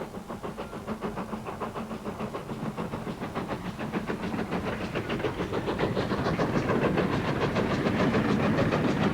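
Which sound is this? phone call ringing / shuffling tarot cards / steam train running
steam train running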